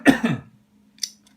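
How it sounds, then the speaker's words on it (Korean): A person coughs twice in quick succession at close range, followed by a brief faint click and near silence. "제가 이 환절기 때 기침이 자주 나옵니다"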